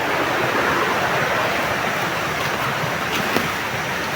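A stream flowing somewhere below, a steady broadband rush of water that stays fairly loud and even throughout, with no voices and only a faint brief knock near the end.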